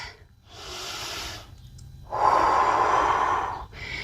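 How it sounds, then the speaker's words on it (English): Deep, slow breaths drawn in and released during a yoga balance pose, heard as two long breathy rushes of air close to the mic, the second stronger, with no talking. "And take a few rounds of breath."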